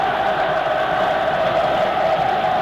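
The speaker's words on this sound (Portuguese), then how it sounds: "E a torcida do Flamengo procura empurrar o time à frente." Flamengo football supporters fill a stadium with a steady, distant crowd roar, a continuous wash of cheering and chanting with no clear breaks.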